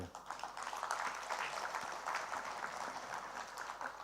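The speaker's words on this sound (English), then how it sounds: "A round of applause to the ministers." Applause for government ministers at a Tenaga Nasional Berhad energy transition agenda launch, a steady, moderately distant wash of many hands clapping that runs the whole stretch at an even level.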